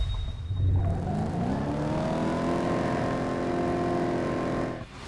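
Car engines race in the Top Drives video game, first as a low rumble, then as a rising, sustained whine of revs building in pitch, which holds before cutting off abruptly near the end.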